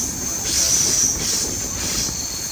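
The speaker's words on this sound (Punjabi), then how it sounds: "ਟ੍ਰੇਨ ਘੁੰਮ ਗਈ" A train travelling through Karnataka rolls along the rails with a steady rumble. A continuous high metallic wheel squeal rides on top, heard from close by.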